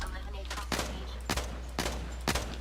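Combat rifle gunfire in the shooter game Blacklight Retribution: four sharp bursts roughly half a second apart, loud and close over a steady low hum of game background noise.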